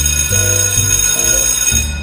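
A school break bell rings loud and steady, a bright, continuous metallic ringing with sustained overtones that fills the whole moment without pause.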